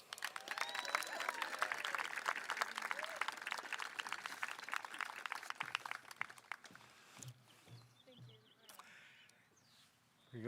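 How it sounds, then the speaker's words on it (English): Audience applause at a high school class of 2021 awards night, a lively burst of clapping that fades out after several seconds, leaving quieter room sounds and scattered voices. "You'll give them a well-rounded, well-deserved applause"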